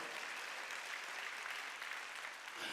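A church congregation claps together during a Wednesday worship service, a steady, dense wash of hands filling the room without pause, moderately close, with no talk over it.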